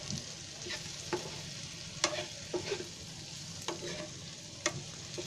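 Masala and egg stirred in a frying pan for Maharashtrian egg bhaji, with a steady sizzle of frying and scattered scraping clicks of the spoon against the pan, close and continuous.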